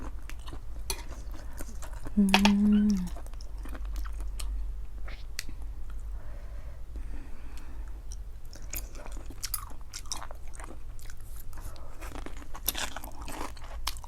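Crunchy chewing of pickled squid and lotus stem salad, soft rhythmic bites close to the mouth with a brief louder moment early on, over steady low background noise.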